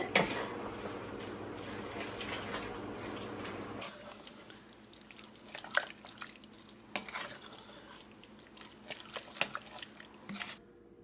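A little water trickles and drips into a dish of sauce with Worcestershire and beef bouillon, a steady pour giving way to scattered splashes and clinks of dishware, close and moderately quiet.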